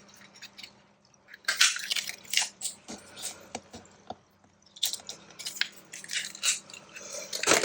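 Craft punches, one 1-inch and one 3/4-inch, cut through paper, making a string of crisp crunching clicks and squeezes in uneven bursts, close and fairly loud, with quieter handling gaps between them.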